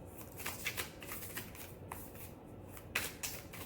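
A deck of oracle cards being shuffled by hand, with soft rapid riffling and light card flicks, quiet and close, no voices.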